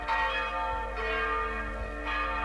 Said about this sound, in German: Das festliche Glockengeläut ruft die Gemeinde zum Gottesdienst.